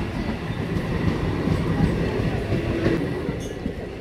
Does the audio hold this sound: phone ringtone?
no